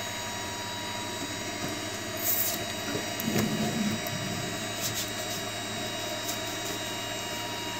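A MeCreator2 3D printer auto-homing, with a quiet steady hum, soft whirring stepper-motor moves and small clicks, close and faint.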